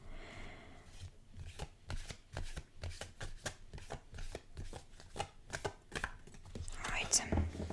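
A deck of playing cards being shuffled and handled at close range: a steady run of crisp riffling bursts and soft taps, fairly quiet, with a brighter rustle near the end.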